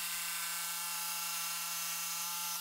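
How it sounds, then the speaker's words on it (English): A jigsaw cutting out the waste from the middle of a wooden desk panel gives a steady, buzzing motor whine that holds at one pitch throughout and stays loud and close, with no talk. "I'll then use a jigsaw to remove the waste in the middle"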